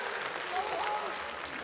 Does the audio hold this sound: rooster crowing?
no